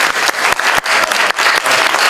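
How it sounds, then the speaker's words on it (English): Audience applause at a candidates' meeting: loud, dense clapping that runs continuously, with brief dips, and no speech over it. "I think these gentlemen need a round of applause for putting the show out there"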